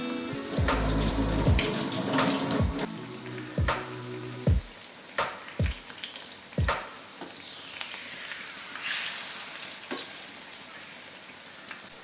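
Urad dal vadas frying in hot oil, with a bubbling, sizzling hiss and several distinct splashy plops as the vadas are moved or turned; close and steady, no talking.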